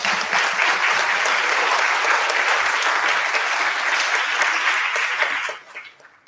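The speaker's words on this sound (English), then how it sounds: "So, big applause." Loud, dense applause from an association gathering in Chile carries steadily for about five seconds, then tapers off to a few scattered claps.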